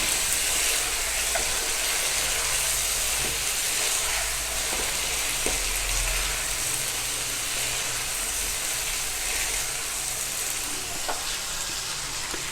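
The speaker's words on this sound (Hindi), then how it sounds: "ज़ीरा पाउडर, इसको फ्राई करेंगे।" Cumin powder for mutton karahi fries in hot oil with a constant loud, dense sizzle throughout, broken by occasional faint utensil taps and stirring scrapes.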